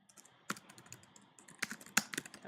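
Keys clack on a computer keyboard as a route name is typed, a quiet, irregular run of close taps with a few sharper strokes and brief pauses between bursts.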